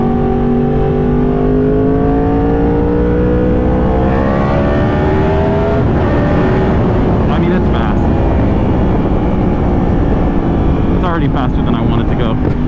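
A Yamaha R1 motorcycle accelerates hard at wide open throttle, its engine note climbing steadily through the revs and roaring loud and close with heavy wind rush throughout.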